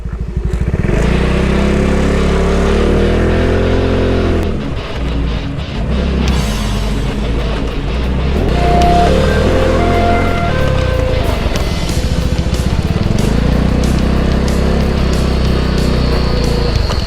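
A low-slung Hunter motor scooter revs and pulls away, its loud close engine rising and falling in pitch through several throttle surges with some clattering.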